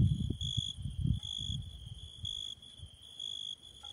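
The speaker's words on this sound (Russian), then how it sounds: "послушайте, как поют сверчки" Crickets chirp in steady, repeating pulses at a high pitch, with a low rumble of movement or handling noise nearby in the first half.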